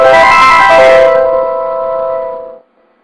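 Sega Genesis console booting after a cartridge cleaning gives a single loud, bright chime-like startup tone that rings steadily and then cuts off cleanly after about two and a half seconds, with no voices.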